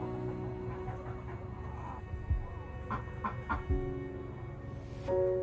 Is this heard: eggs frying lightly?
no